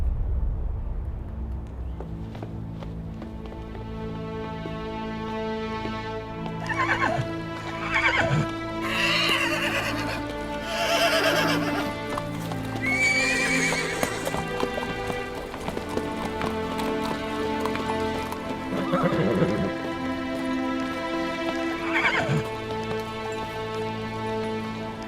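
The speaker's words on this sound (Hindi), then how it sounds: "बाला खातून, आपकी घोड़ी।" A mare neighs in several loud whinnies over dramatic orchestral music, with hooves clip-clopping underneath in a period drama scene.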